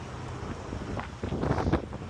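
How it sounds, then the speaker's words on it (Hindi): Wind gusts buffet the microphone outdoors in Calgary on a mild January day, making a steady, uneven rumble with no talking. "ऐसी फिट हवा चल रही है"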